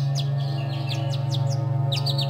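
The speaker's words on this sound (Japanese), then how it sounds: "鳥が元気よく鳴いてる。" Birds chirp outside a window on a snowy winter day in the video game Amnesia: Memories, quick high tweets in scattered clusters over a steady low hum, with no voices.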